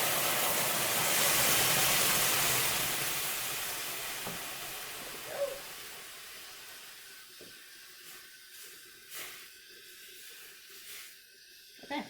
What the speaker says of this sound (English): I'm gonna go ahead and add my vegetable broth to my quinoa and bring that to a boil.